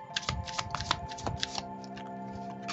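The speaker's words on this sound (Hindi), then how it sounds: "so let me shuffle more." Playing cards are shuffled close up, a quick series of soft riffling flicks and snaps over a few seconds, with a faint hum in the background.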